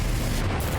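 Fiery Confringo spell blast in Hogwarts Legacy, a short loud booming burst with rumbling low-end, heard alone without speech.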